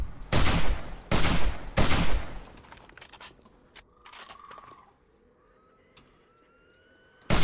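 Incendiary shotgun rounds firing in a zombie horde video game: three loud, close blasts about a second apart, followed by quieter game ambience with faint tones.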